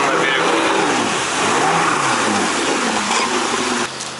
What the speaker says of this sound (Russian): Заезжает, дает газ, подавливает, прижимает, жмет газ.